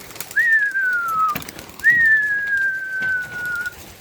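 Two long, clear whistling bird calls, each gliding slightly downward, sounding close with a short pause between them.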